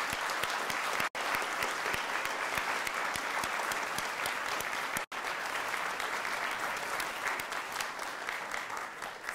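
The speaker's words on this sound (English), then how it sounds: "I think they deserve another round of applause." At a spring graduation ceremony, a large crowd gives the graduates sustained applause, a thick, continuous roar of clapping that stays loud and level from start to finish, briefly cut twice.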